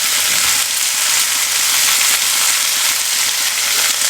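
Two medium tomatoes, finely chopped, go into a pan of frying onions for a gostu side dish, raising a loud, steady hiss of sizzling oil that stays constant throughout with no talk.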